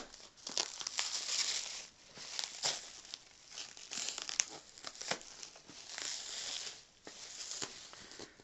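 Plastic and paper packaging around a shipped refurbished Dell Latitude E5430 laptop being crinkled and torn open, with repeated crackling rips in uneven bursts across several seconds, close and fairly quiet, with no voices.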